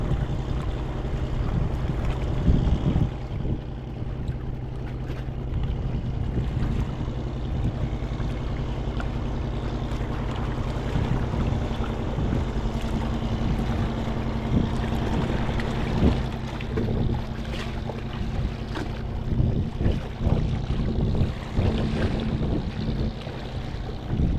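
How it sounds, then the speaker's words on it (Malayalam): A boat moving on open water near a rocky fishing spot, a steady low engine drone with wind buffeting the microphone and washing waves, sustained throughout at moderate loudness. "ബോട്ട് വരുന്നുണ്ട്"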